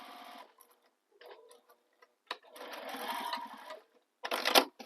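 A sewing machine stitches bag fabric for a quilted handbag in short, uneven bursts with pauses between them, close and moderately loud, with a ticking mechanical rhythm.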